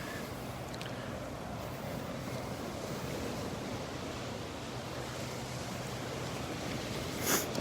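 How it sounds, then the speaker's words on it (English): Northwest wind and Gulf surf at Delnor-Wiggins beach make a continuous broad roar of breaking waves and buffeting wind, with no talking. "That wind, I think the wind's coming from out of the northwest, which is not good."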